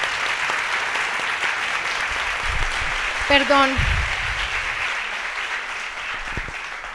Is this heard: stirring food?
no